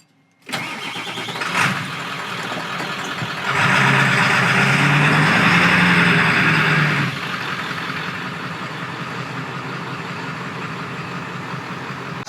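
Engine of an old Ford truck running steadily at a drive-thru, a continuous rumble through the whole stretch that swells louder in the middle before settling back to an even idle.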